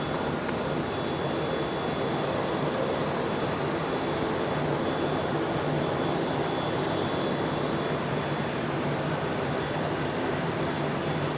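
An aircraft taking off from runway 01 right at Brisbane International Airport, a steady broad engine roar held at a fairly loud, even level throughout, with no voices.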